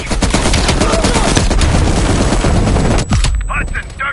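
Heavy machine gun fire blasts continuously in a Call of Duty Black Ops Cold War campaign battle, a loud dense rattling barrage that cuts off near the end, leaving brief scattered noises.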